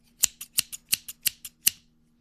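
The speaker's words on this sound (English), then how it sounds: "The mystery sound is a pair of scissors." Kid-safe scissors snip eight times in a quick, uneven rhythm, each cut a crisp close click over near silence.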